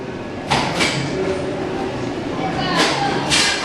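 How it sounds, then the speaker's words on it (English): A railway signal box lever is pulled at a museum exhibit, giving a couple of sharp mechanical clunks and a sliding rattle over a steady, busy indoor background. "Pull the levers for the signal."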